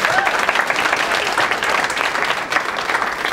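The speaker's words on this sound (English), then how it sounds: "Let's have a round of applause for our panelists." An audience applauds panelists at a creator day event in Atlanta, with dense, steady clapping from a sizable crowd that stays even and fairly loud throughout.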